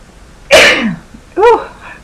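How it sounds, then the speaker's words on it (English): A single loud, close sneeze bursts out abruptly, followed about a second later by a short voiced exclamation. "I'm getting ready to sneeze."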